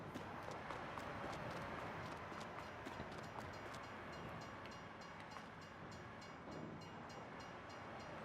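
A train approaching a lowered-barrier level crossing in Farming Simulator 22, a steady rumbling rattle with rhythmic clacking that holds loud and close throughout, no talk over it.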